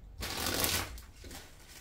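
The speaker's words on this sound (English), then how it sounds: "Last shuffle for you" A deck of tarot cards is riffled once in a quick, close, crisp burst of flapping, followed by a softer settling shuffle.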